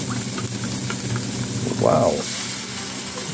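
Homemade oyster sauce poured into a pan of sautéed onion, garlic, ginger and beef with broccoli, giving a steady sizzle with a brief louder hiss as the liquid hits, and a short spoken exclamation.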